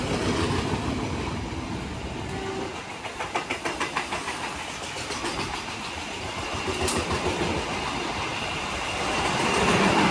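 Sri Tanjung passenger train running on rails near Surabaya, a steady loud rumble with rhythmic clickety-clack of wheels over rail joints and a persistent broadband roar throughout.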